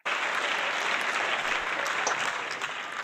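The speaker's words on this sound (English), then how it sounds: "So, without a round of applause for Cody Hagen" Audience applause in a talk-show setting, a dense steady wash of clapping that starts abruptly and holds at full level for about three seconds, with no voices over it.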